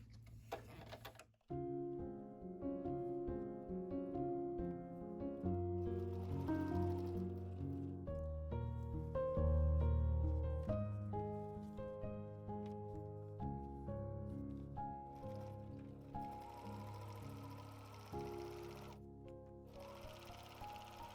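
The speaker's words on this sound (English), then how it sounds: "I'm going to sew all the way around this piece." A vintage sewing machine stitches around a piece of paper with a steady mechanical whir and rapid needle clatter that hold for several seconds and then taper off, close and alone.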